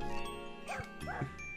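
A cartoonish puppy in the video game Doki Doki Universe gives two quick yipping barks over a soft, steady musical background.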